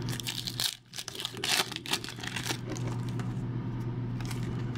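A 2002-03 Upper Deck Inspirations basketball hobby pack is torn open, with bursts of crinkling foil wrapper and tearing close by, followed by steadier rustling handling over a low background hum.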